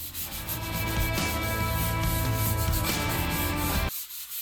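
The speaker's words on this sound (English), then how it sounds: "Just gonna give that a light sanding." Continuous steady light sanding of a primed countertop, close and fairly loud, stopping abruptly near the end.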